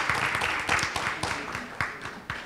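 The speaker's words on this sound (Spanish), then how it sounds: "Un fuerte aplauso para todo ese equipo del Ministerio de Educación" An audience claps for the Ministry of Education team, a moderately loud, slightly uneven patter of hands with a few sharper claps standing out and no speech over it.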